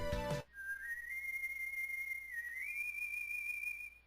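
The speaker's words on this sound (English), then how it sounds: "I know that whistle! Proto Man!" A long, steady melodic whistle from Proto Man in the video game Mega Man 7 rings out clearly after a brief burst of other game sound, holding a sustained tune with a slight rise near the end.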